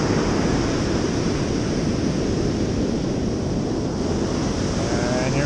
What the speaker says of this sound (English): So here comes the wave. I'm in about shin deep water.